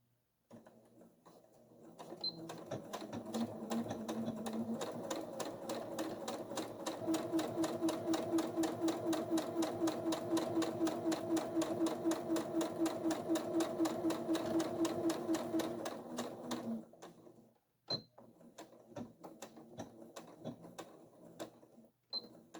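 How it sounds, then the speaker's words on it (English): Sewing machine running a steady line of top stitching along a zipper on a triangle zipper bag, a continuous close whir of rapid needle strokes lasting about fifteen seconds, then stopping, followed by faint handling noises. "now I'm going to do some top stitching along my zipper"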